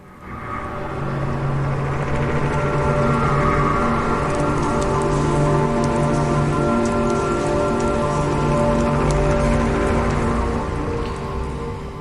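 Heavy rain falls at night in a dense, unbroken hiss that stays loud and even throughout, with no talking over it.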